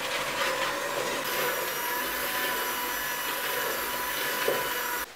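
A mixer creams butter and sugar together for cookie dough, giving a steady, loud, close whirring drone that runs unbroken for about five seconds before cutting off, with no talking.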